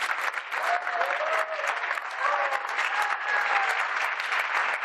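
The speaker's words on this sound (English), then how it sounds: "let's give him a great round of applause" A round of applause at a music festival for mental health, steady crowd clapping with a few cheers and whistles rising above it, filling the whole stretch.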